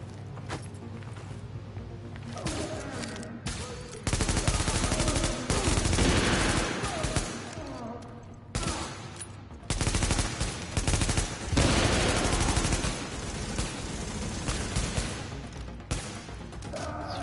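Rifle fire in the shooter The Division, with loud automatic bursts rattling off in several long strings separated by short pauses and heavy reverberation. Only faint talk is mixed in.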